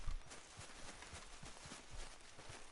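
Horse hooves walking in Red Dead Redemption 2, a steady rhythmic clip-clop of footfalls on a dirt path, close and even, with no talk over it.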